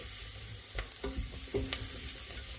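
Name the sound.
knob of butter sizzling in frying pan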